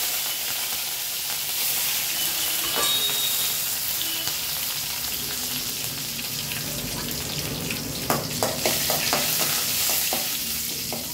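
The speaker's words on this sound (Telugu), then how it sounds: "కొంచెం వెల్లుల్లి ఫ్రై అయినాక" Crushed garlic, curry leaves and urad dal frying in hot oil for a tempering, a loud continuous hiss and crackle with a burst of quick spatula taps and scrapes near the end.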